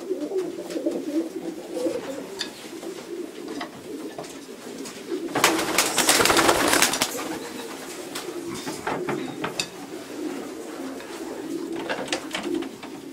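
Racing pigeons cooing inside a pigeon loft, soft repeated coos continuing throughout, with a brief burst of wing flapping or rustling in the middle and occasional faint clicks.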